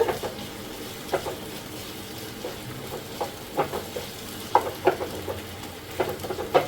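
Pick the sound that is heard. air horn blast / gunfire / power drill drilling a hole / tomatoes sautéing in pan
tomatoes sautéing in pan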